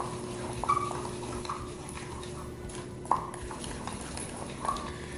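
Curing salt and seasonings being worked into ground summer sausage meat, a steady soft scraping and mixing sound with occasional light clinks of a utensil against the bowl, fairly quiet and close.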